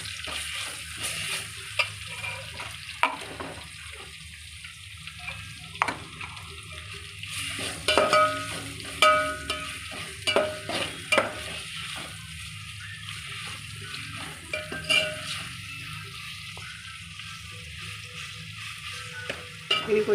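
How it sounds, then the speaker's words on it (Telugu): Ginger garlic paste fries in a pan for a mint and coriander biryani, giving a steady close sizzle with recurring scraping stir strokes and light clinks throughout, with no talk. "అలాగే ginger and garlic paste add చేసుకున్నాం."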